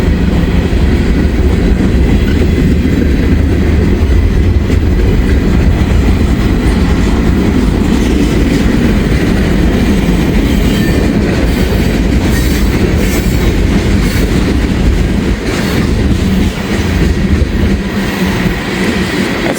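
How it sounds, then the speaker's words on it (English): A long freight train carrying ethanol loads rumbles past close by, loud and continuous, with steady clickety-clack of wheels on rails and occasional metallic squeals. "so we got a pretty good train here."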